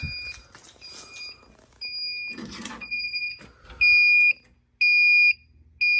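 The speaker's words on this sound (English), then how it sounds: "Fire alarm in-house." A fire alarm panel beeps loudly in steady, evenly spaced pulses after some rustling and shuffling noises at the start, during an in-house alarm test.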